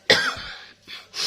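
A woman with a cold coughs once, sharp and close, followed by a short throat-clearing rasp and a softer second cough.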